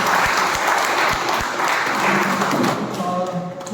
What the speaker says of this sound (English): You can keep on clapping, guys.